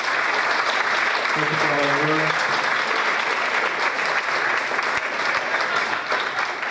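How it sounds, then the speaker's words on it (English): Steady, full applause from an audience at a teachers' summit carries on throughout, with a voice briefly speaking over the clapping. "give a nice little round of applause"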